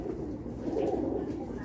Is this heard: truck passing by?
no